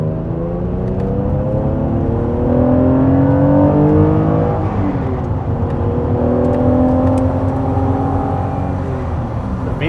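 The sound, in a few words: J-swapped Honda NSX accelerating on track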